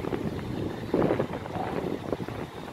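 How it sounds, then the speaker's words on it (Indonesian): Strong wind buffeting the microphone at pier 7 of Merak harbour on a hot day, with swells and a boat nearby, a continuous rough rushing sound. "Ini suasana Pelabuhan Merak Dermaga 7. Cuacanya panas, angin besar, gelombang alun."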